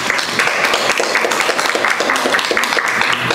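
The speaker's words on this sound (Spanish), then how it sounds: "Recibémonos con un fuerte aplauso" An audience at a fetal monitoring course gives a speaker from the fetal medicine service a strong welcoming round of applause, dense, close and sustained throughout.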